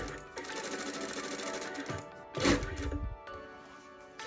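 A Brother S-7300A industrial sewing machine runs steadily, with a brief sharp mechanical clack and burst partway through before the even whirring stitching resumes, heard up close and alone.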